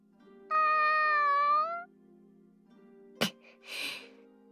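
A cat meows once in the Sword Art Online video game, a clear rising-and-falling call, followed by a sharp click and a short breathy sneeze-like puff over a quiet background hum.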